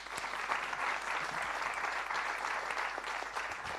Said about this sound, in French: je vous demande de l'applaudir pour lui donner de la force